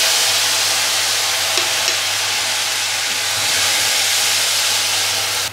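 Onion, garlic and tomato paste frying in fresh oil, a steady loud sizzle and hiss close up, continuous with no pauses and a faint low hum beneath.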